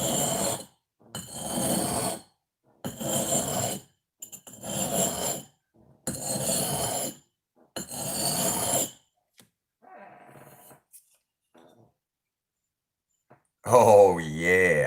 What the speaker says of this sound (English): we just use a good old sharpening stone